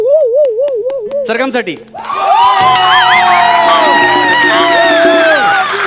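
Loud, sustained applause and cheering from a live comedy-show audience, with whoops and shouting voices, rising right after a brief sung melody and continuing strongly to the end.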